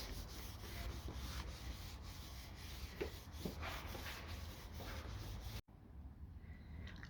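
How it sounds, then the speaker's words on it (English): Steady cloth rubbing on a car body panel, wiping it down to degrease before primer, a continuous close scrubbing that stops abruptly near the end and leaves quiet room tone. "First, let's degrease the surface."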